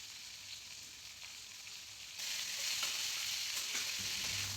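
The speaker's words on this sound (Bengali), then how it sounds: "কুমড়ো আলু ভাজা হয়ে গেছে, এবার দিয়ে দেব পেঁয়াজ ও টমেটো কুচি।" Pumpkin and potato pieces fry in an oil pan with a soft, steady sizzle that jumps louder and hisses more brightly partway through as chopped onion and tomato go in; no talking.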